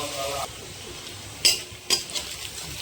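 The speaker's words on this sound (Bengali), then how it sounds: "একটু পেঁয়াজটা ভাজা ভাজা হতে থাক" Onions fry gently in a pan for butter chicken curry, a soft steady sizzle broken by two sharp utensil clinks against the pan as they are stirred.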